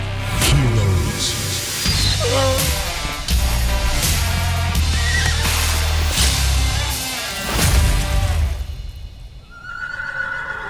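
Rescued horses neighing and whinnying in loud, repeated calls that rise and fall across the stretch, with a brief quieter lull near the end before another whinny.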